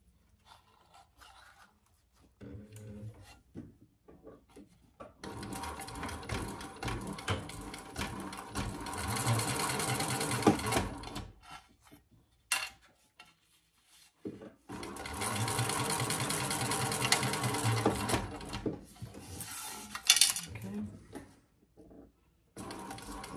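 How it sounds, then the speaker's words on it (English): A sewing machine top-stitches a waist pack in two long, steady whirring runs of several seconds each, separated by quiet pauses with soft handling noises. "I'm going to top stitch from this side so I can see what I'm doing."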